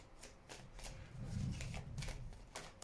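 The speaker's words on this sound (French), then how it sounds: "Je vais mettre une carte à côté." A tarot or oracle card set down on a table during a card reading, a soft brushy slap and shuffling rustle with several light strikes close by, no talking.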